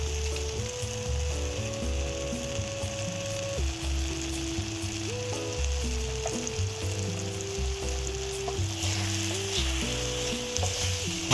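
Gab leaf curry being stirred in a pan after raw oil is added, with a steady frying sizzle and scraping stir sounds under loud background music throughout.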